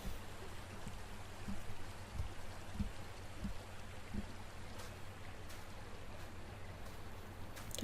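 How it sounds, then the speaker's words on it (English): Steady rushing water from a waterfall and creek in the video game The Wild Eternal, a continuous broadband wash with faint low thumps, moderately quiet and alone without talk. "I can hear a waterfall."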